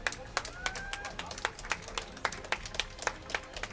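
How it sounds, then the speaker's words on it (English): Small crowd applauding at the close of an offline Guilty Gear Strive fighting-game tournament, sparse irregular hand claps close by with some chatter underneath. "One last round of applause."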